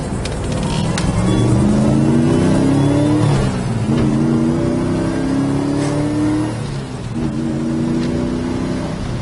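A 1969 Plymouth Road Runner accelerates hard, its engine note climbing through loud, rising revs, easing briefly and then pulling again, close and strong with road rumble underneath.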